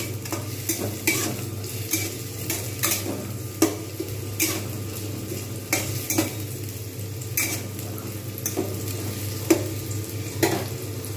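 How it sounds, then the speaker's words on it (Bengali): Onions frying in a pan for an omelette curry, a constant sizzle broken by repeated rhythmic scrapes and clatters of a spatula stirring them against the metal. "এরকম করে কিন্তু ভাজতে থাকবো, লালচে করে ভেজে নেবো ভালো করে।"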